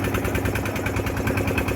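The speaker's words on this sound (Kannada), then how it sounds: "ನಮ್ಮಿಂದ ಇನ್ನೊಂದು ಬಂತು ಬೋಟು." A boat engine runs off the coast near Gokarna, a steady rhythmic chugging throb with vibration, close and continuous for the short stretch.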